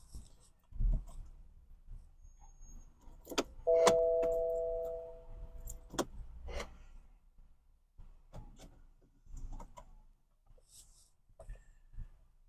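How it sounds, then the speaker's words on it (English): Quiet clicks come from a BMW E92 as the ignition key is cycled, with a single sustained electronic chime tone that fades after about two seconds and scattered soft clicks and rustles around it. "So the ignition has been cycled,"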